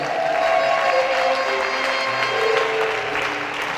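A church congregation applauding and cheering together, a loud sustained wash of clapping with voices mixed in that stays fairly even before easing slightly at the end.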